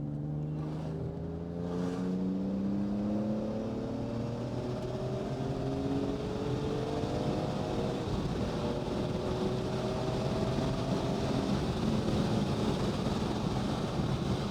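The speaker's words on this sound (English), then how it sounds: "A little third gear pull." A car accelerating hard in third gear from the cabin, its engine note rising steadily and droning loudly over road and wind noise, with no one speaking.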